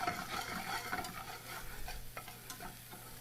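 Fresh shallots and garlic sauté in hot oil with a close crackling sizzle. Stirring scrapes and taps sound through it.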